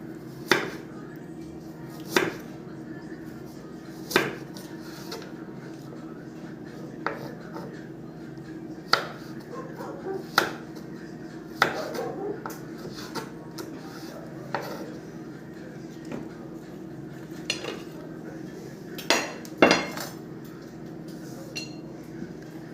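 A knife cuts pepper into julienne strips on a board, a series of sharp, spaced chops and taps over a low steady background hum, fairly quiet and without talk.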